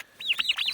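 A Red Bourbon turkey gives a quick run of high, warbling calls with several rising and falling notes, close and fairly loud in an otherwise quiet spot.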